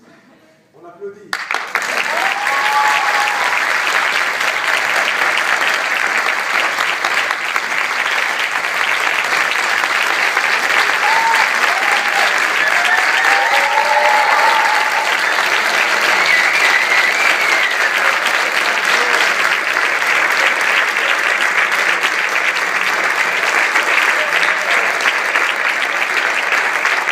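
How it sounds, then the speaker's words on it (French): Sustained, dense applause fills a youth parliament chamber, starting abruptly and holding steady and loud throughout, with a few faint voices and cheers rising within the clapping. "On applaudit."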